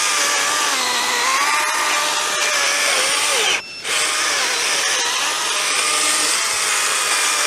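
STIHL GTA 40 small battery chainsaw with a six-inch guide bar cutting through six-inch timber, a loud steady high-pitched motor whine running continuously, with one brief dip in the middle.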